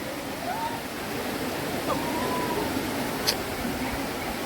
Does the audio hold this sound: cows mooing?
no